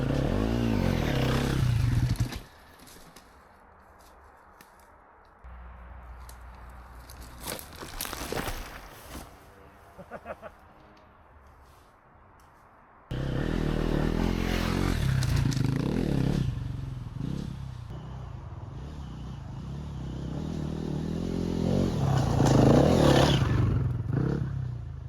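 A clapped-out enduro dirt bike rides through woods, its engine rising and falling in loud bursts with clattering and scraping, then a quieter stretch before the engine roars back up steadily.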